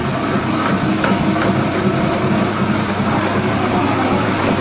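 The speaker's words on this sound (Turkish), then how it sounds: "Bu polisajda toz toprak gürültü olmuyor arkadaşlar. Bakın makinenin sesini." A floor polishing machine works parquet with a steady, dense mechanical whir and grinding hum that stays loud and unbroken throughout.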